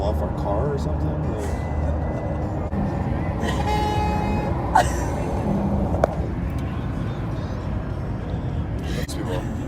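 A car horn honks at a parked car on a busy street, sounding out clearly over rumbling traffic and engine noise, with voices talking nearby.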